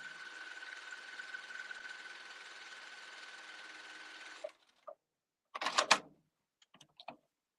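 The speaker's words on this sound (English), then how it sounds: "watch how wonderful this machine sews" A sewing machine runs a straight stitch at high speed for about four and a half seconds in a steady, even whir, then stops, followed by a few brief mechanical clicks and clunks.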